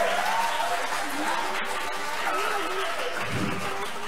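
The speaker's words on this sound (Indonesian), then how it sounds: "Beri tepuk tangan yang meriah untuk regu A dan B" Applause for two competing teams at a Qur'an knowledge quiz semifinal, a provincial MTQ contest in South Sumatra, a fairly soft, steady clatter of hands with faint voices and murmurs mixed in.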